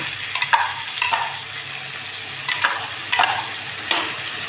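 Ground coriander masala paste frying in a pan for coriander rice, a steady low sizzle broken by several sharp scrapes and clacks of a spoon stirring at irregular intervals.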